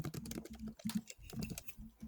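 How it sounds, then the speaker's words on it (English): Fingers typing on a computer keyboard, quick irregular clatter of key taps in short bursts with small pauses, close and fairly quiet. "As we're all typing."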